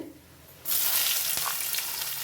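Finely chopped onions hit hot oil with fried cashews in a pan for coriander rice, bursting into a sudden loud sizzle that holds as a steady, bright frying hiss.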